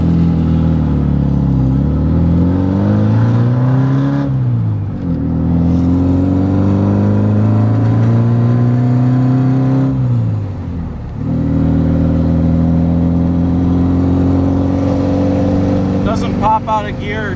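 A 1969 VW Karmann Ghia custom climbs through its gears while merging into traffic, the air-cooled engine droning and rising in pitch with a gear change dip, loud and close from inside the cabin throughout.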